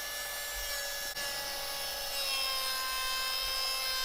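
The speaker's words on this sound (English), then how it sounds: "Moving on to the planer." Thickness planer running with pallet wood being fed through, a steady high-pitched machine whine with a brief dip partway, then a slightly heavier load toward the end.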